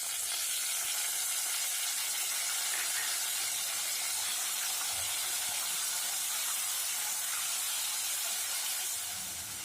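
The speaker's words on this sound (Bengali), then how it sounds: "আলুগুলো মোটামুটি ভাজা ভাজা হয়ে গেছে। এবার আমি এর মধ্যে দিয়ে দিচ্ছি একটা বড় টমেটো" Potatoes and chopped tomato fry in a pan with a steady, soft hiss and sizzle, continuous and close, with no talking over it.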